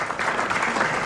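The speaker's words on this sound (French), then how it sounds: "On applaudit Laurence Boccolini" A studio audience on a French entertainment show applauds a guest, a short, steady burst of many hands clapping at moderate loudness, continuous without pause or speech.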